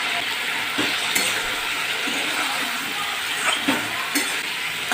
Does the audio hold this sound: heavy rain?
no